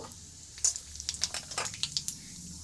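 Cumin seeds and a dried red chilli hitting hot white oil, a quiet background of oil followed by a quick burst of sharp crackles and pops that come in rapid bursts, close and without talking.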